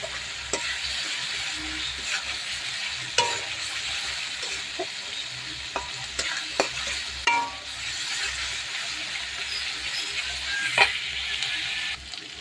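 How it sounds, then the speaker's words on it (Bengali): Spices and chili powder fry in a pan for a spicy prawn curry, making a soft, continuous sizzle with intermittent scraping stirs and occasional spoon taps, fairly quiet and close. "সব কিছু একসঙ্গে মিশিয়ে নিয়ে কষিয়ে নেব।"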